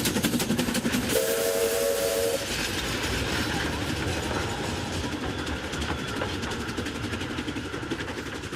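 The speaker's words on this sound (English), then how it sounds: "The little train always has right of way." A steam locomotive on a rural railway in China chugs along loudly and steadily, with a two-toned steam whistle blowing for about a second near the start over the continuous rumble of the train.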